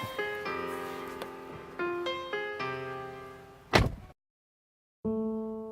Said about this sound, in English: with the Ghost, you don't even have to close the door